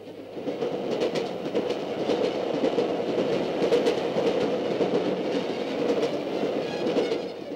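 A steam train, the Scotsman, rushes along at over 60 miles an hour, a steady, loud rumble of wheels and carriages with faint rhythmic clatter throughout and no voices.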